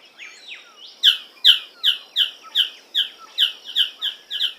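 A magnificent bird of paradise calls in a bush, a rapid series of about ten sharp, bright, evenly spaced squawking notes, close and clear with no other sounds.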